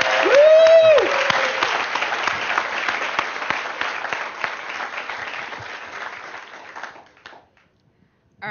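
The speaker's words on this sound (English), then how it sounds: "big, warm round of applause for Elon and Sarah Lacy" An audience gives a big, warm round of applause for Elon Musk and Sarah Lacy at a 2010 talk event, a loud dense burst of clapping with a whistle at the start, tapering off after about seven seconds.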